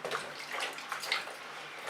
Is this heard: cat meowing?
no